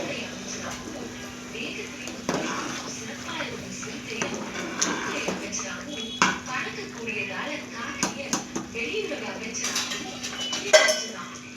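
Metal clinks and clatters as a lid goes onto a pot of boiling rice in a home kitchen, a series of close light knocks and scrapes under steady talking.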